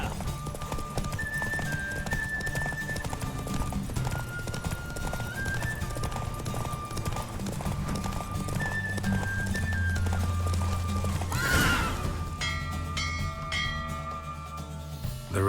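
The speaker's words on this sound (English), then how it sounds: "The roach I chose put in a nice run." Horse hooves clip-clop at a fast gallop during a race in The Witcher 3 video game, a steady rhythm with a whinny and bell tones over game music, no talk.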